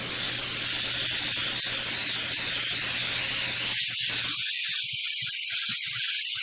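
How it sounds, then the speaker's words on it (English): Steady broadband hiss of an airbrush spraying paint runs throughout, with faint clicks at first and the lower sound cutting out in patches toward the end. "And then I will spray that over everything."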